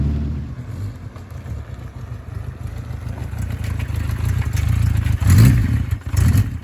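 A classic Honda CB350/4 four-cylinder motorcycle engine, running too rich, is revved close by: a loud low throbbing idle climbs into a couple of stronger rising revs near the end.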